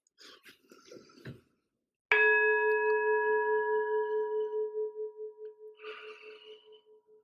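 A temple bell is struck once after a moment of quiet speech. Its clear, loud tone rings on with a long, slowly pulsing decay.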